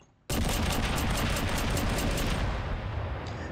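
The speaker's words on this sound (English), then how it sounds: "And of course, the nade gun just shoots grenades." A grenade launcher fires grenades in a video game, a sudden loud blast that swells into a sustained roaring rumble of rapid explosions, close and continuous, easing slightly toward the end.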